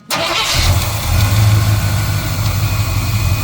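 A running engine with hydraulic lifters loosened on purpose for a valve lash adjustment starts up and settles into a steady, loud idle with a rough, ticking mechanical clatter, close and continuous, with no talking.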